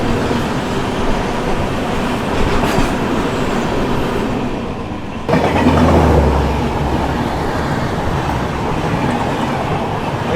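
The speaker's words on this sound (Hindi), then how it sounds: "India's longest running train Kanyakumari Dibrugarh Vivek express" Indian passenger train, the Kanyakumari–Dibrugarh Vivek Express, running past: a loud, continuous rumble and clatter of wheels on rails that swells abruptly midway into a heavier, closer roar.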